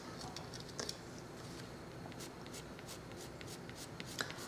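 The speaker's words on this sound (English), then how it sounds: "And this is our dark green pencil on top of the darker green areas." A dark green colored pencil shading on paper, giving a steady soft scratchy hiss with a few faint taps, close and quiet.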